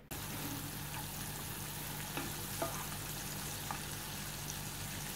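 Chopped capsicum sautéing in melted butter in a pan over a medium flame for Mumbai-style pav bhaji, a steady dense sizzle throughout with a few soft stirring clicks, close and loud, over a low constant hum and no talking.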